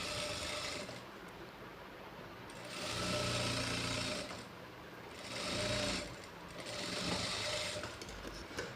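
A sewing machine stitches a blouse shape belt in three sustained bursts of fast, steady mechanical clatter, separated by quieter pauses with low background hum.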